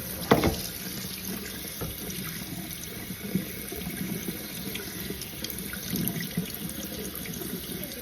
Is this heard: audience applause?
no